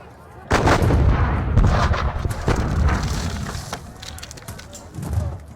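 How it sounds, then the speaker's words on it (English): Cannon fire in a Napoleonic war video game: a loud volley of booming artillery shots rolling into one another, then tapering to scattered crackling reports and a final thud. "Okay, let's soften them up a bit further with some cannon fire."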